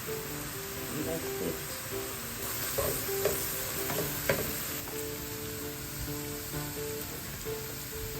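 Curry powder and vegetables frying in a pan in a home kitchen, a steady soft sizzle with occasional stirring scrapes and clinks, fairly quiet and close, with a high constant hum in the background.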